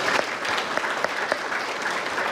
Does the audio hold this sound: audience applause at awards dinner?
yes